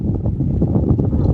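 Wind buffets the microphone on a muddy sand shore of the Missouri River, a steady low rumble with gusty swells and no voices over the short stretch.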